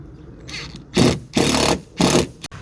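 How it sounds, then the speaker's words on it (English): Small drill boring tiny pilot holes for screws into the fiberglass front of a 5th wheel trailer, three short whirring bursts with brief pauses between them, close and fairly loud. "Now I'm going to drill 6 very, very small pilot holes for some screws"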